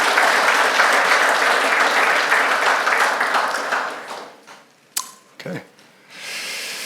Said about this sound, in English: If we can maybe give them a round of applause